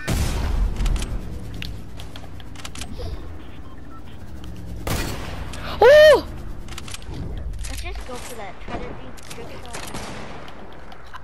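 Sniper shots in a shooter game during a one-shot trick-shot mode, with several sharp reports and a bright ringing effect near the middle, heard under steady talk from the player.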